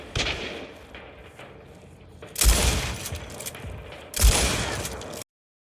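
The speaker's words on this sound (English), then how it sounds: "he's using a shotgun at this distance here" Shotgun fire in a video game at fairly long range, two loud booming blasts about two seconds apart, each with a sharp attack and a rumbling tail, over quieter ambient game noise.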